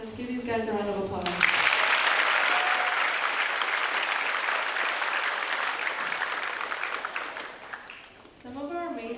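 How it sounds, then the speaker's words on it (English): A school promotion audience for second graders breaks into a loud, sustained round of applause that fills most of the stretch, with a speaking voice briefly before and after. "Let's give these guys a round of applause."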